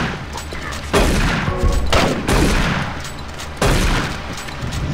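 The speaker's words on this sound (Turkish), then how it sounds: "Biri sıktı sanki." Gunfire in the video game Doom 3, three loud, booming shots spaced roughly a second apart, each followed by a short rumbling decay over a low background.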